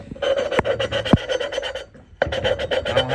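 Valve lapping on an engine head, a tool twisted back and forth against the valve seat, gives a close, steady gritty rasping in quick repeated strokes, with one brief pause before the rhythmic grinding resumes.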